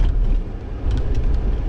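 A truck fitted with FOX 2.5 HTO shocks drives over street bumps, heard as a close, steady low engine and road rumble with faint thumps.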